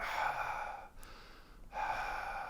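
A voice imitates faint breathing in a haunted house, giving two breathy gasping exhalations separated by a short quiet pause, close and soft, with no words.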